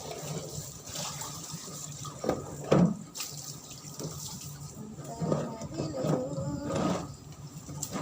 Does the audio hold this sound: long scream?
no